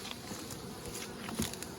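Undisturbed honey bees work the frames of an open hive, a steady close buzzing hum that swells slightly in places, with no voices.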